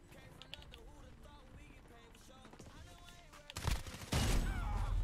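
Bursts of gunfire from weapons in the shooter game Modern Warfare, growing louder and denser toward the end, with sustained loud firing in the final second over a busy game soundscape.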